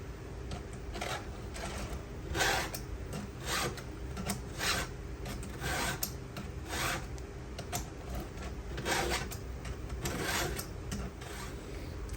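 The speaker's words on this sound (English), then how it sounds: "I'll go the whole way down, sharpening the teeth that go this direction." Hand file sharpening chainsaw chain teeth, a rhythmic series of short rasping strokes repeated steadily, close and fairly quiet, with no talk.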